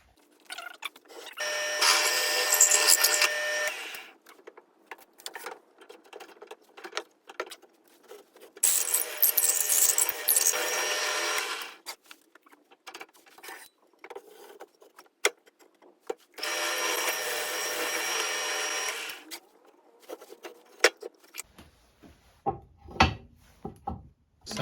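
A power drill bores holes into a wooden shelf for concealed hardware, three separate whining runs of several seconds each, with clicks, knocks and handling of tools and wood between them and a clatter of small taps at the end.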